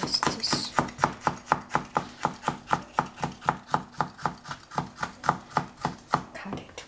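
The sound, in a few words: knife chopping capsicum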